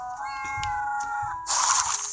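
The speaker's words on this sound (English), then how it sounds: "You can hear it purring." A cat in The Sims 4 video game gives a couple of short meows, then a louder, brighter cry, heard clearly over a faint low background hum.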